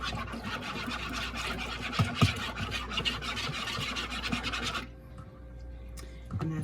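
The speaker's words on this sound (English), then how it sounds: "I use a whisk to mix it up" Wire whisk beating an egg in a bowl, a fast steady run of scratchy clinking strokes that stops abruptly near the end, leaving a quieter pause before a brief final scrape.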